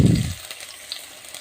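Chopped onion dropped into about a tablespoon of hot oil in a wok gives a short burst of sizzling that quickly fades to a faint hiss. It is quiet and close, with no talk.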